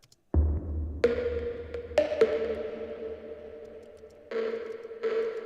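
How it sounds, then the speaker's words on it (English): Synthesized tone processed through a reverb effect in music production, struck several times with each hit leaving a long, bright decaying tail that hangs and smears into the next; clean and close, with no voices. "So here's our reverb."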